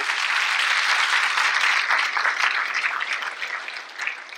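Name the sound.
audience applause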